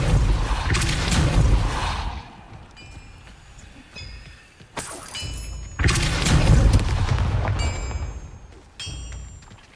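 Depulso spell cast in the Hogwarts Legacy video game: heavy booming blasts and thuds in two loud bursts, separated by quieter rumbling and bright magical chimes, no talking.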